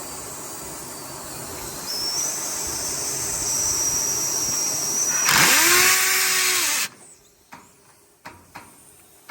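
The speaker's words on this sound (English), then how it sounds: "Just need to drill the big hole for the middle." A loud, sustained power drill whine, drilling a large hole, rises in pitch, then bogs down and cuts off, followed by a few sharp knocks and clicks.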